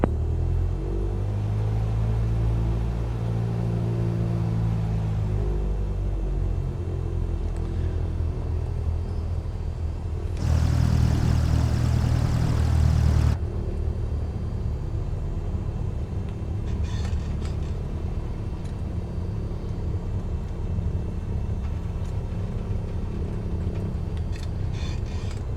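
Cessna light aircraft engine in Microsoft Flight Simulator, a steady loud droning rumble through the takeoff roll with a harsher broadband surge partway through, continuous and close with no talking.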